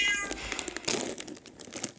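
A cat meows close by in a short burst of several quick, pitched cries, with slight rustling between them.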